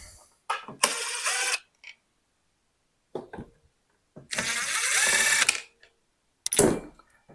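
A power screwdriver whirs in a few short, loud bursts, taking out same-size screws from the back panel of a Danby portable inverter air conditioner, with quiet clicks and handling noises between the bursts.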